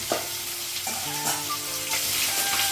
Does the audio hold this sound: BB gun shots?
no